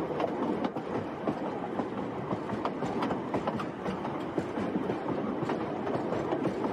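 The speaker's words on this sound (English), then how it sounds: "Okay, Brandie, are you ready to hijack this train?" A train rumbles steadily along the rails, a continuous loud clatter and roar with faint rhythmic knocking throughout.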